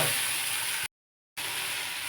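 Snake gourd and onion frying in a pan with chili and turmeric, giving a steady close sizzle that cuts out briefly midway and then resumes.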